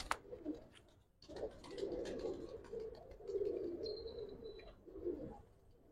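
Giribaj and coloured pigeons at a pigeon seller's coo continuously at close range, with low rolling calls overlapping, while faint background noise and an occasional thin chirp sound.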